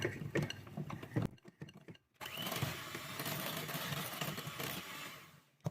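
Cake batter with baking powder is mixed in a bowl. Clicks and clattering knocks come first, then a brief pause, and then a continuous close whirring churn that runs to the end.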